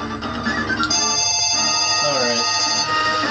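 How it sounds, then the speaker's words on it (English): A telephone rings in a Pokémon Elite Four playthrough, a repeating electronic tone sounding loud and close over game music. "Just as the phone rings."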